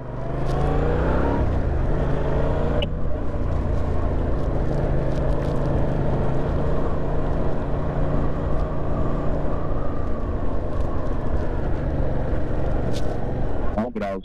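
Yamaha MT-07 motorcycle riding through traffic during a licence training ride, a steady engine drone running loud and continuous throughout with shifting pitch, under wind noise.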